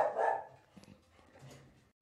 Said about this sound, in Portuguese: Relevem o cachorro